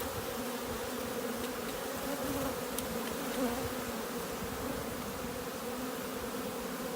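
Many honey bees droning around an emptied package cage during hive installation, a continuous low, even buzz that stays close and constant throughout, with no speech.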